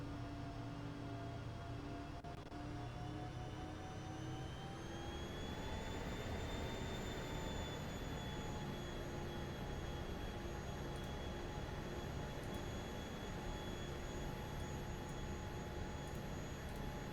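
Jet engines of a Learjet 45 spool up for takeoff, heard from inside as a steady loud roar with a whine that climbs in pitch partway through and then holds, with no talking.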